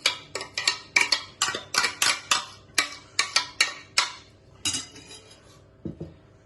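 Parsley, shallot and olive filling is mixed in a bowl, a rapid series of sharp, close utensil clinks and taps against the dish in uneven rhythm, fading to a few final knocks, with no talking.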